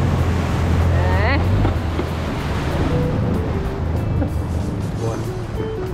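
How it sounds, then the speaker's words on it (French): Steady rush of crashing waves and wind noise on open water aboard a boat, continuous and fairly loud, with a voice briefly audible early on. "Les vagues ont pété dans le fond."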